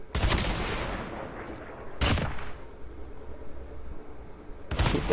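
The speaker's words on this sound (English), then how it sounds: "and this is the kill effect." Kill effect from the Mythic Rytec in a video game: three sharp, loud blasts come at about 0, 2 and 4.7 seconds, each decaying into a rumbling tail, with no talk.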